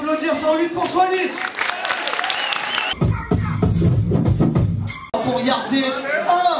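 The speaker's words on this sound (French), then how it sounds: "On peut applaudir 108 pour soigner." A crowd at an open-mic rap cypher in Marseille claps and cheers loudly, mixed with shouting voices and excited chatter throughout.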